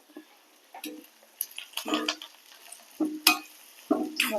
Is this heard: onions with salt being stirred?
yes